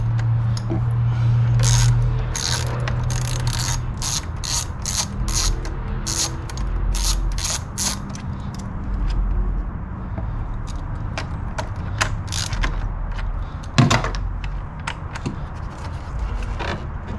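A socket wrench loosens the negative battery terminal on a Fiat 124 Spider in a run of rapid, close ratcheting clicks, followed by scattered metallic handling noises and one sharp knock.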